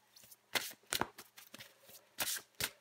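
Tarot cards being shuffled before a draw: soft, close riffles and slaps in irregular bursts with small gaps between them, quiet overall and with no talking.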